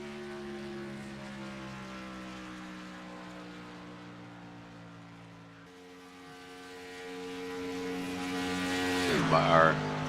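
A stock car roars past at about 193 miles per hour during Daytona 500 qualifying, a steady engine drone whose pitch drops as it passes, then swells loud toward the end as the car comes closer.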